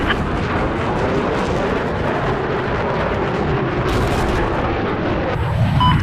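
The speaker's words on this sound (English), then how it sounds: "Обнаружен вражеский джет!" A roaring, rumbling wash of enemy jet noise in Call of Duty: Black Ops 3 fills the scene with booming battlefield effects, loud and continuous, with a rising whine near the end.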